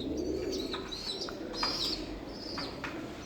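Soft, low cooing of sick pigeons rumbles close by, with a few brief chirps and rustles scattered over it.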